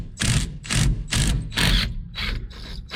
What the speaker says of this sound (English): hopefully we got it stuck together good enough we can hit this impact and she'll come